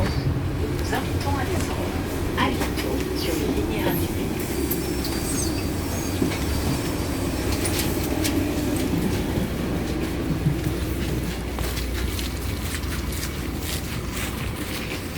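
A moving train rumbles steadily with a rhythmic clatter of wheels and occasional squeals, while faint voices murmur in the background throughout.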